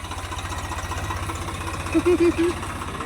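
A tractor engine idles steadily nearby with a low, even chugging pulse throughout, with a brief murmur of voices toward the end.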